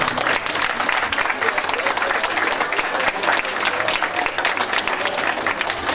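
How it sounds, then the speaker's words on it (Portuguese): A crowd gives a TV ballroom dancing couple a full round of applause, dense and steady from start to finish. It is close, loud and continuous, with faint crowd murmur underneath. "Salva de palmas cheia para vocês"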